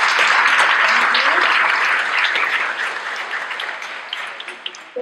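Audience applause for a panel discussion on race and the prison system, a dense, steady clapping that fills the room and then thins out toward the end, with a few scattered claps trailing off.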